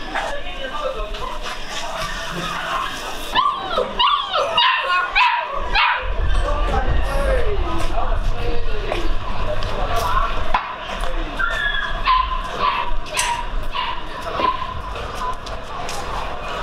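Dogs bark and yip a few times outdoors on a street in China amid street noise, with people talking and traffic rumbling in the background.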